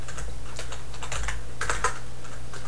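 Computer keyboard typing while entering commands, a steady run of quick, close key clicks with no talk.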